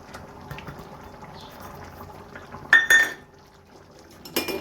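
A utensil scrapes and clinks against a pan while carrot halwa with crushed cardamom is mixed, two brief bright metallic bursts standing out over a quiet background.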